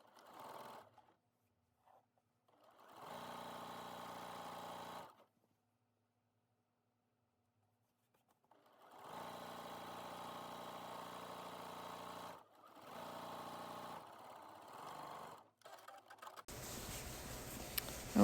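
A sewing machine runs steadily in three separate bursts as it stitches a straight skirt seam just under a quarter inch wide, with a long pause after the first burst and a short break between the last two.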